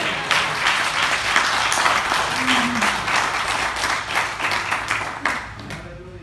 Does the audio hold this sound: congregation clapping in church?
yes